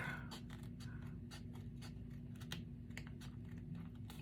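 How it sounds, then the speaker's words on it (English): Paper trimmed for a craft project gives a rapid series of soft crisp clicks and snips over a steady low electrical hum, faint and close, with no talking. "I'm going to trim that up real quick."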